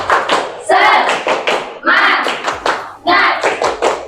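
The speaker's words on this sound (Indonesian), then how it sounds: "Tepuk semangat dulu, tepuk semangat biar semangat." Children in a classroom clap the tepuk semangat chant, bursts of rhythmic clapping joined by voices chanting in unison, loud and close, in repeating phrases.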